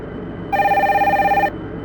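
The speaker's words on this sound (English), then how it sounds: "That sounds like my cell phone" A cell phone rings in the PS1 game Detective Barbie: The Mystery Cruise, a steady electronic warbling tone that sounds for about a second, loud and clear with no talking.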